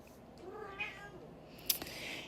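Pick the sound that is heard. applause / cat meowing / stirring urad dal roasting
cat meowing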